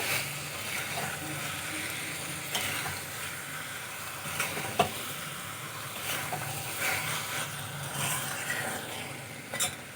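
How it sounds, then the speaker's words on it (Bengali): Taro stolons being stirred and fried with spices in a pan, a continuous low sizzle broken by scraping and knocking stirs at intervals, with no talking. "খুব ভালো করে লতিগুলো আমি মশলার সাথে মিশিয়ে খুব ভালো করে কষিয়ে নেব।"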